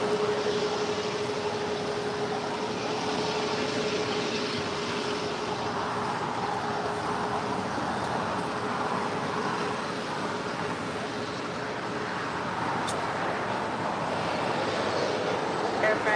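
Air France Flight 66, a heavy passenger jet from Paris, landing on the south-side runway 25 right: a steady distant roar of jet engines holding level throughout, with faint background hum and no clear speech.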